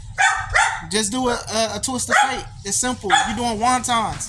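A dog barks and yips indoors in the same room, its sharp calls mixed in under steady, continuous talking from a person nearby.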